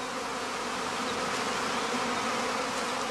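A honeybee swarm gathers at a straw skep set on the eaves, making a dense, continuous buzzing hum that stays steady and fairly close throughout, with no voices.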